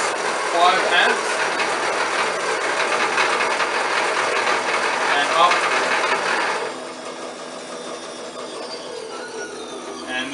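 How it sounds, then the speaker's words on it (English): The rear wheel of a 2017 Quark bike spins hard on a dyno, shredding its tire with a loud, continuous grinding roar. The roar drops abruptly to a quieter whir after about seven seconds. "that was with the wheel spinning on the dyno"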